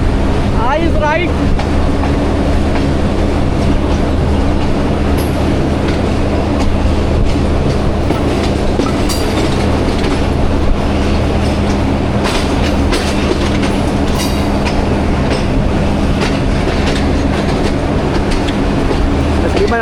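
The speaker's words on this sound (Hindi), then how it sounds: "ट्रेन हमारी पहुंच रही है रावलपिंडी रेलवे स्टेशन पे।" A train rumbles along steadily and loudly from inside the carriage, wheels clicking over the rails with a constant low drone, as it arrives at Rawalpindi railway station on a rainy day.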